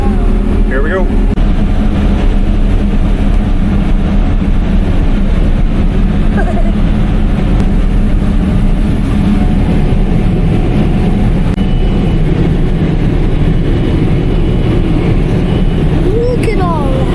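A cotton harvester working a Texas field throttles up into a loud, steady diesel drone with heavy low rumble. The engine sound stays constant and close throughout the whole stretch.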